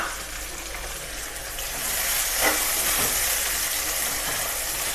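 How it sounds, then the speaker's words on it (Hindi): Green garlic and two large tomatoes lightly frying in a pan make a continuous hiss that swells louder partway through, with one brief stir, and no voices. "इसको ज़रा हल्का सा फ्राई कर दें।"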